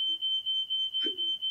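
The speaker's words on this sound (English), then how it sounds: "smoke alarm went off" A steady, piercing high-pitched smoke alarm tone sounds continuously, with a brief low thump partway through.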